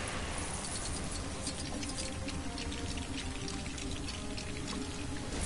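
Steady, continuous pouring and splashing water in the LEGO Dimensions video game, constant and moderately quiet throughout with no talking.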